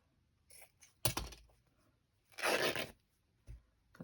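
Scissors snip through pieces of printed text paper for a journal with a fabric cover, giving a few short crisp cuts and one longer rustling slice, close and quiet.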